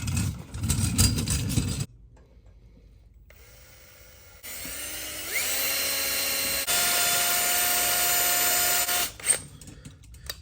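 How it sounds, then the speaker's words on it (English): A power drill bores into a part for a 1982 Honda XR500R scrambler build, starting and stopping, then running in long whining bursts that rise in pitch and hold steady, with no speech. "So let's freaking drill."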